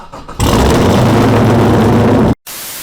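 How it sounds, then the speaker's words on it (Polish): A Corvette drift car pulling out, its American V8 engine suddenly roaring to a loud, steady rev close by, cutting out abruptly for a moment before resuming, with no talk. "pozdrawiamy sąsiada, który na pewno słyszy, jak wyjeżdżamy tym autem"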